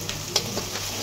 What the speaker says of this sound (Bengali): দিয়ে কিন্তু ভালোভাবে নাড়িয়ে চাড়িয়ে নিচ্ছে মশলাগুলোকে একসাথে